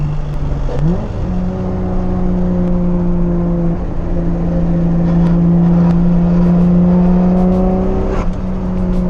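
A single-turbo Toyota Supra making about 550 horsepower accelerates hard on a country back road, its engine note climbing steadily through a long pull, loud and close with whirring turbo tones, a brief shift near the start and another near the end.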